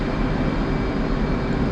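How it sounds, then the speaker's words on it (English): Jet engine at full afterburner during takeoff in a flight simulator game, a steady loud broadband roar that fills the whole stretch without a break. "we're gonna do an afterburner takeoff"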